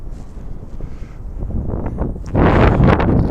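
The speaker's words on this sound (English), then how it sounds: "the wind is sort of deciding what way to point the camera" Wind buffets a camera microphone outdoors in a park in Auckland, New Zealand, a steady rumbling roar that swells into a louder gust near the end.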